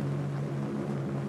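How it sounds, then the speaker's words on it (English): A propeller-driven bombing plane with escort aircraft drones overhead during the 1946 Project Crossroads atomic test at Bikini, a steady, low, moderately faint engine hum held throughout. "The bombing plane is nearing the target with its escort of photographic planes."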